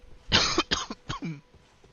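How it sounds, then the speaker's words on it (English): A few quick, close coughs in a short burst, followed by a brief throaty sound. "Cough."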